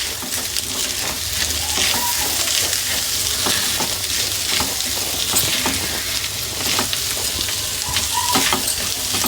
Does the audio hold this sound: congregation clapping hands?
no